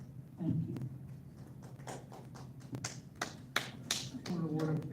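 Scattered hand claps and taps from an audience at a city council meeting, irregular and fairly close, mixed with murmuring voices and a speaker talking.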